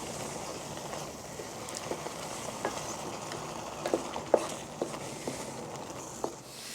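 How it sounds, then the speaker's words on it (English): Onion, crushed coriander and spices stir frying in a pan for a lamb trotters paya curry, a steady low sizzle with scattered sharper taps and scrapes of stirring, fairly faint and alone with no talk. "we will stir fry this now."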